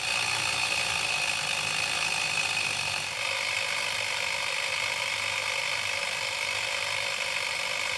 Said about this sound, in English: Then I slowly raised it with the chain hoist, stopping a few times along the way to keep it from getting snagged on the other framing.